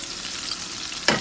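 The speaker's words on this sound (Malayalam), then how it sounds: "നമുക്ക് ആ സവോളയൊക്കെ ഒന്ന് വഴറ്റിയെടുക്കാം. സവോള, തക്കാളി, ഇഞ്ചിയൊക്കെ." Onion, tomato and ginger sautéing in oil, a close, steady frying sizzle with a sharp scrape of a spoon near the end.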